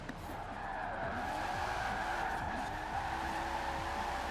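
In Forza Horizon 4, a Nissan Skyline R34 drifting on a loose rear end howls with continuous tire squeal and skidding over a steady engine drone, sustained and loud for several seconds.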